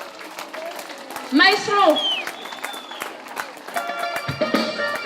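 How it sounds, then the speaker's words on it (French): A crowd at a local fashion show claps and cheers as dresses are presented. Scattered hand claps patter throughout while a voice shouts out loudly, and music tones rise underneath toward the end. "applaudissez, criez fort"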